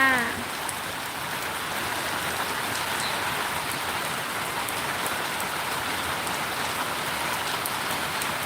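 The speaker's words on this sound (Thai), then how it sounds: "ที่นี่ฝนตกเบามากยังยังไม่แรงนะคะเนี่ย" Steady rain pours onto a surface in a dense, even hiss of drops, continuous and fairly close, with no voices.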